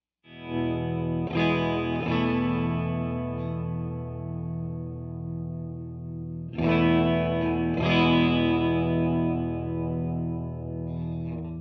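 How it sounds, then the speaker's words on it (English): Guitar played through a Keeley Caverns V2 delay and reverb pedal, two strummed chords ringing out with a long shimmering, modulated tail that slowly decays. "The Keeley definitely has the most controls for the reverb."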